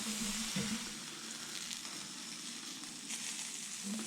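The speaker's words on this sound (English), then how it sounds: "Ooh, that sizzle." Natural casing white hot dogs sizzle steadily on a roller grill, a continuous close crackling hiss with a low mechanical hum underneath and occasional faint clicks.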